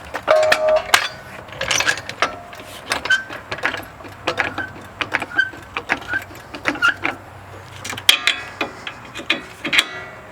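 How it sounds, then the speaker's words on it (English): A car jack raises a 2005-2014 Ford Mustang during front strut replacement, giving a steady run of close mechanical clicks and ratcheting ticks for about ten seconds with no talk. "We're going to jack it up."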